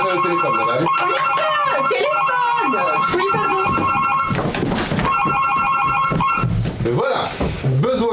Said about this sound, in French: Je crois que quelqu'un vous appelle au téléphone,